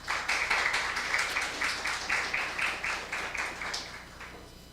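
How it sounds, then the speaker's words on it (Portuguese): Church congregation clapping in a steady, rhythmic beat at a moderate distance, each clap burst evenly spaced and gradually softening toward the end, with no talk over it. "Aplauda Jesus."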